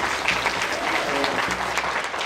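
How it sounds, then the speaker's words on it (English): An audience of future FBI agents applauding at a hosted event, a dense, steady wash of clapping throughout, loud and close, with no speech over it. "Clap for yourself."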